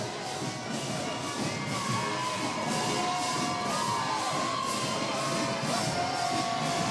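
A crowd at a Mobile Mardi Gras parade cheers and shouts at a distance in a steady roar, with children's shouts mixed into a dense wash of noise and no clear speech.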